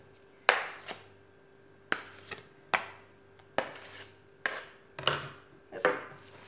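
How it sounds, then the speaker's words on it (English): A bench scraper drags buttercream off a naked cake in a run of about eight short, sharp scraping strokes at an even rhythm, close and fairly quiet, with no talk. "you can really scrape it down until you can very clearly see the layers of cake"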